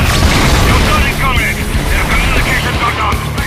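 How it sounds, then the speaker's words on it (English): A radio tower blown up in a video game, a deep rumbling explosion that rolls on loud and steady, with crackling debris and low booms sustained throughout. "Detonate the radio tower"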